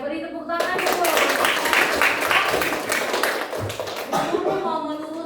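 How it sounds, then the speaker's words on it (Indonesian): Audience clapping fills the room steadily for about five seconds, a dense patter of many hands with voices rising over it toward the end. "Oke, beri tepuk tangan dulu."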